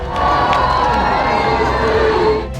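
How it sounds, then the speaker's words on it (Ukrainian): Huge crowds cheer for Pope John Paul II as he passes in his white car during his 2001 visit to Ukraine, a loud, sustained roar of many voices with shouting children, steady throughout. "Всюди, де має проїхати його білий автомобіль, чекають величезні натовпи"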